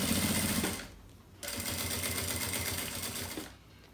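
A sewing machine topstitches a fabric notebook cover in close, rapid mechanical bursts, running about a second, pausing briefly, then stitching again for two seconds before stopping.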